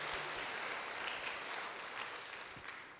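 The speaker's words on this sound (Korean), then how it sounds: "부활하신 주님께 영광의 박수 올려드립니다." A church congregation on Easter Sunday applauds, a steady, moderately distant patter of many hands clapping with no talking.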